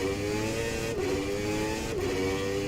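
A 1993 McLaren Formula 1 car's engine screams steadily onboard at Imola in rFactor 2, a loud continuous high-pitched drone with two quick gear-change dips in pitch.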